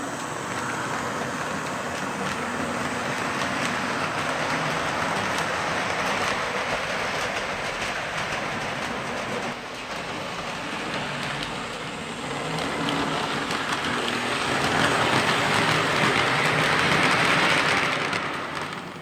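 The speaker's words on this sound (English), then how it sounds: "That was the run by with the chessi system locomotive." A Chessie System locomotive runs past, giving a loud, continuous rumble and rolling rail noise that holds steady, then swells louder near the end as it goes by.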